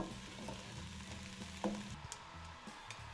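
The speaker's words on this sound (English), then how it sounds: "And we're gonna mix it up." Meat and onions for a beef and venison chili sizzle in a pot while being stirred, a steady close frying hiss with occasional scrapes and clunks of the spoon, and no voices.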